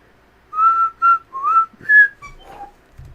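A person whistles a short tune, a handful of clear melodic phrases with brief gaps between them, close and alone, followed by a faint thump.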